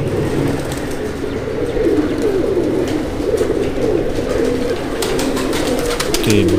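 Pigeons at a pigeon-flying competition in Amra Kalan coo steadily and loudly, their overlapping throaty calls forming a continuous chorus with occasional sharper chirps and no talk.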